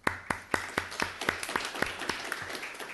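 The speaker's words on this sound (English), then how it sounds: "So give it a round of applause" Sparse, evenly spaced hand claps from a small group at a Parks and Recreation Commission meeting, quiet and a bit distant, tapering into scattered claps.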